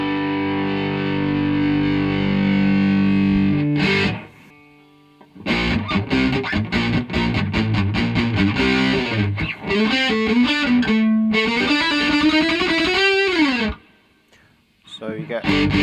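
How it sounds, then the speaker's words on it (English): Cigar box guitar through a 100-watt tube amp with the gain turned up, heavily distorted hard rock chords and riffs with a sustained opening chord, brief gaps and a rising bend, loud and close. "So you get reasonably authentic sort of hard rock sound there."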